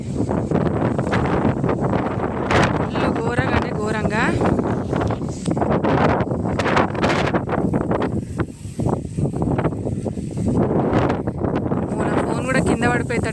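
Strong gusty wind roars loudly and steadily into the microphone on a stormy evening in Karimnagar before thunder, with people talking over it throughout.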